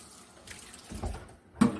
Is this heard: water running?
yes